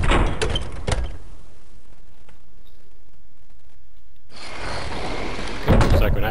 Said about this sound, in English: Through the door.